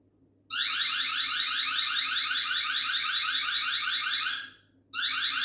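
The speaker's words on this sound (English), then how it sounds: "Manual alarm. It will trigger device to sound an alarm." A eufyCam 2 Pro security camera's manual alarm blares a loud, shrill, rapidly warbling siren nonstop for about four seconds, stops briefly, then starts again.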